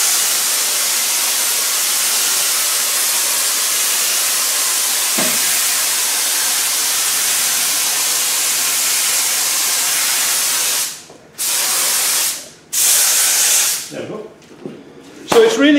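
Aerosol glue hisses continuously from a can onto a car headlining, a steady loud spray that breaks into short bursts with gaps near the end.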